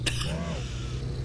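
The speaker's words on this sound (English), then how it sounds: "This cough's got to go away" A person coughs once, short and close, over steady engine drone and game music while driving an off-road car in a car-dealing simulator game.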